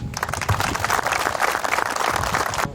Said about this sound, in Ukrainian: я хочу ще раз, щоб ми оплесками подякували нашим військовослужбовцям, які захищають нашу країну